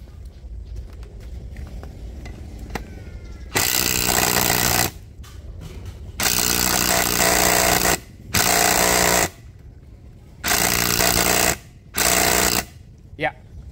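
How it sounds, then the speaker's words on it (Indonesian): A DeWalt 12-volt brushless impact driver drives a screw in five loud, close rattling bursts of hammering, each lasting one to two seconds, with quieter stretches and some talking between them. "Saya akan coba masukkan skrup ini menggunakan DeWalt 12 volt yang motornya sudah brushless"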